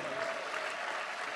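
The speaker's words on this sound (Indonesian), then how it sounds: "Sekali lagi bagi tepukan gemuruh untuk mereka ini." An audience at an Islamic forum with religious speakers breaks into applause, a dense steady wash of clapping heard from within the hall.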